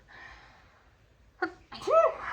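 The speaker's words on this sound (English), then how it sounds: "I'm gonna sneeze" A single loud sneeze bursts out near the mic after a quiet stretch with faint breathy sounds, preceded by a short sharp intake.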